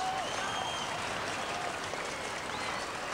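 A 1983 Australian football crowd roars and applauds a goal, a dense sustained wash of clapping and cheering throughout, loud and continuous.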